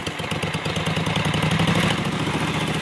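A Scag three-wheel 61-inch commercial lawn mower with an oil-cooled Kohler 22 hp engine idles steadily, its close, loud, even chug running alone without a break.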